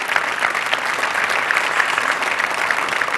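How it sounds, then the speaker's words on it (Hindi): A studio audience at a televised housewives' quiz show gives loud, steady applause for four contestants, with dense, continuous clapping throughout and no voices. "जोरदार तालियां हमारी चारों श्रीमती दीप शिखा जी के लिए"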